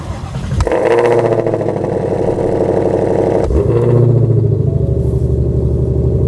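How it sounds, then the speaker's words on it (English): A stationary 2022 Shelby GT500 engine bursts into a loud, close revving roar that holds steady, then shifts to a deeper, throatier drone partway through, with no talking over it. "This is gonna be the glorious moment that I miss so much, is the noise of this car."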